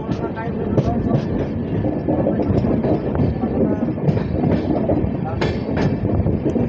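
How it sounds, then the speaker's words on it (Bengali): The Kamrup Express rolls along the rails toward New Alipurduar, a loud continuous rumble with rhythmic clickety-clack of wheels over joints and some wind noise, heard from on board. "নিউ আলিপুরদুয়ারের দিকে ব্যাক টার্ন নিয়ে নিচ্ছে আমাদের কামরূপ এক্সপ্রেস।"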